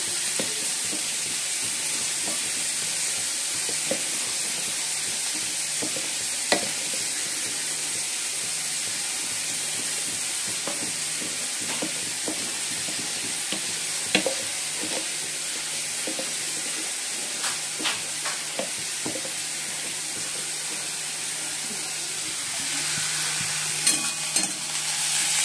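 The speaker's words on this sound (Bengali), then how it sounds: "এই বললাম মশলাটা কষানো হয়ে গেছে, তেল ছেড়ে গেছে।" Masala fries in oil that has begun to separate, a continuous loud hiss and sizzle, broken by occasional scrapes and clicks of a stirring spoon against the pan, with no voices.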